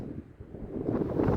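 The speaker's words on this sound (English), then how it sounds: "It's very windy," Strong wind blows in high hills of the Ochoco National Forest, Oregon, in early December, buffeting the microphone with a low roar that dips briefly and then swells louder.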